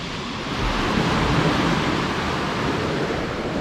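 Sea waves on Massandra beach in Yalta wash in as a steady, broad roar of surf, loud and continuous throughout, with some wind rumble and no voices.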